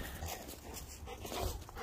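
A dog whimpers softly in a room where other dogs are present, faint and intermittent with light shuffling and movement around it.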